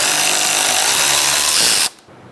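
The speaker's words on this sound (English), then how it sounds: "You're going to use a 10mm socket to remove our bolts attaching the fan to the radiator." A power tool with a 10mm socket removing rusty bolts that hold the fan to the radiator on a 2014-2018 Subaru Forester: a loud, close, steady whirring rattle that stops abruptly near the end.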